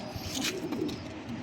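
Salara Teddy pigeon chicks give soft, low cooing and faint chirps, close by and quiet, in a short burst with no talk.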